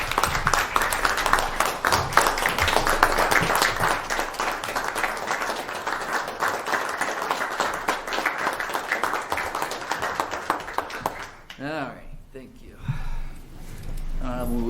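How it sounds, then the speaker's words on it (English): A county planning commission meeting room fills with warm applause for a departing member, steady clapping for about eleven seconds before it fades and a voice speaks. "And I would ask for a round of applause for Jennifer."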